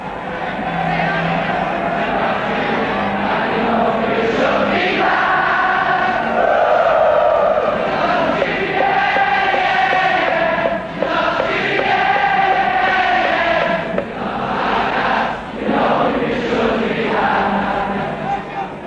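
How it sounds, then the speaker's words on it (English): A Liverpool football crowd in the 1960s sings on the Kop at Anfield: a massed chorus of voices rolls on continuously in a loud, echoing, sustained chant with swelling and falling phrases. "The music the crowd sings is the music that Liverpool has sent echoing around the world."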